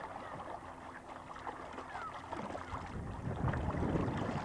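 Boat moving along a river in 1984, running over a bow wake with continuous rumbling water and wind noise that grows louder toward the end; no clear speech.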